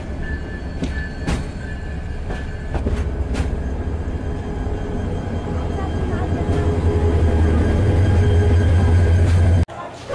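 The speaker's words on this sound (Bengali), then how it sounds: "দেওয়ানগঞ্জ কমিউটার কমলাপুর রেলওয়ে স্টেশনের ৩ নম্বর প্ল্যাটফর্মে প্রবেশ করল।" Dewanganj Commuter train rolling into a platform at Kamalapur railway station, a steady rumble of wheels and carriages building louder toward the end, with a few sharp clanks and people talking in the background.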